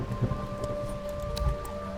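Rain and rumbling thunder from the pirate tavern game Tavern Master, a steady wash of rainfall with low soft rolls underneath and faint bursts, alone without voices, under steady game tones.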